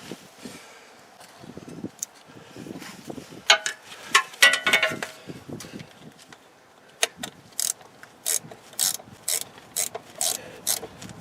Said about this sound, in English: I need the socket, or ratchet rather.